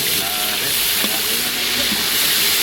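Ground pork fries in a pan with a loud, continuous sizzle and hiss, plus a few faint stirring clicks.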